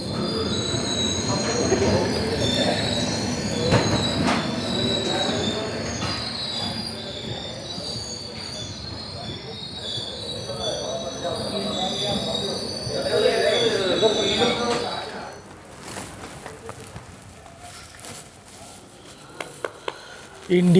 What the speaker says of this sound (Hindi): हमारी ट्रेन पहुंची है